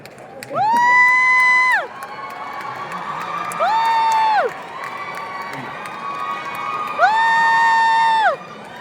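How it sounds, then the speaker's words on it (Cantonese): An audience at a charity concert held in a hospital in Wan Chai cheers in three loud, sustained bursts of whooping voices that rise and fall together, with quieter crowd murmur in between. "多謝大家嘅歡呼聲、掌聲"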